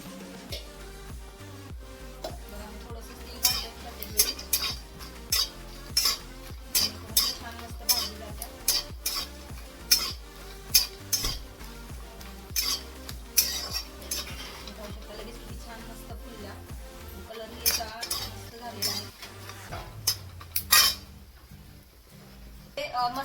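Cardamom and whole spices are roasted in a little oil in a kadhai for a Sangli-style onion-garlic chutney. A spoon stirs and scrapes in a rapid, rhythmic clatter of metallic clinks over a soft sizzle, with some talk nearby.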